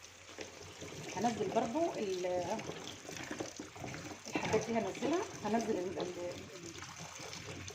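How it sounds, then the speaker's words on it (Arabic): Tap water runs in a steady trickle while taro is rinsed and rubbed, a soft splashing under continuous nearby speech. "هحط بقى شويه ميه من الحنفيه."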